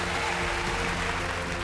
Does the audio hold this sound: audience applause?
yes